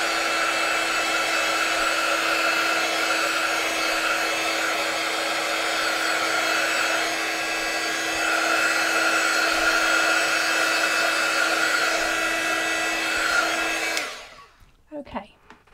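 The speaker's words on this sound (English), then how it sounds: "So I'm going to grab my heat gun and just give it a little." A heat gun drying VersaFine ink on a card: a steady, loud, close whirring blow with a constant high tone that runs for about fourteen seconds, then cuts off, leaving faint handling noise.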